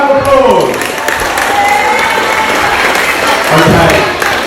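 Year 8 students in a school assembly hall applaud together, a loud, steady wash of clapping with a few voices calling out over it.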